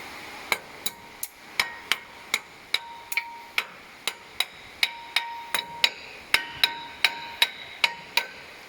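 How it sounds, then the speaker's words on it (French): A hammer strikes steadily on truck brake pads being driven into place, around sixteen sharp metallic blows at a fairly even pace with a few brief ringing tones between them, close and clear. "Prenez le marteau."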